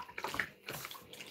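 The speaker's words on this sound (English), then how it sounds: "Just hot water, clean away take away the stickiness of the brine." Hot tap water runs and splashes over brine-sticky atchara ingredients being rinsed in a sink, a soft, uneven gush with brief pauses.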